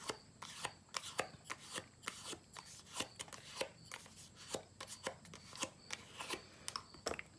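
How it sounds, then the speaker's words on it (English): A bone folder rubs and curls the edges of paper flowers in a run of quick, faint, close scraping strokes in an irregular rhythm, with no speech. "I'm going to take my bone folder and I'm going to curl these edges just a little, loosen the fibers of that paper"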